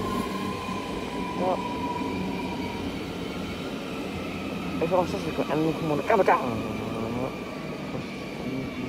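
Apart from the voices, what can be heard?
trains at Schiedam Centrum station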